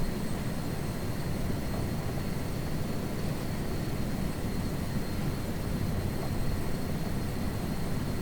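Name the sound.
helicopter engine and rotor in Microsoft Flight Simulator 2024 video game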